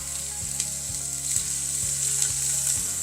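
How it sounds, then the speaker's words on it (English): Steady, close sizzling of steak frying in hot olive oil, a constant crackling hiss with faint periodic clicks, no voices. "You can hear the sizzle."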